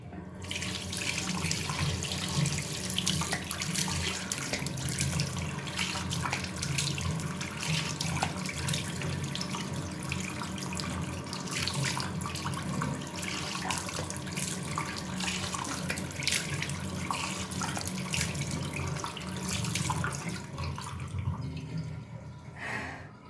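Tap water runs steadily into a sink while a face mask is rinsed off, a continuous close splashing stream with small drips, no talking.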